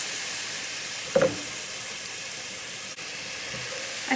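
Chicken pieces frying in red Thai curry paste in a pan, a steady low hiss of sizzling with a brief clatter of stirring near the middle, close and fairly quiet, no talk.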